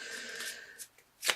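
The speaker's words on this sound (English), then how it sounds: "So I feel like these want to be shuffled." Tarot cards riffled and shuffled in a quick papery burst, followed by a couple of soft taps and a sharper final snap of the deck, close by.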